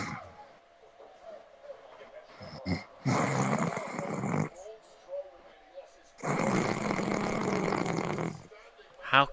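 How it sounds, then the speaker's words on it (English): A man who has just dozed off snores loudly. Two long, rasping, rumbling snores fill the room, each lasting over a second, separated by quieter breathing and faint background sound. "How do you wake up and fall asleep like that and snore so loudly so quickly?"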